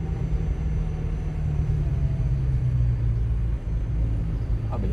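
A convoy of two McLaren cars drives through the streets of Monaco, a steady low engine rumble rolling past without a break from start to finish.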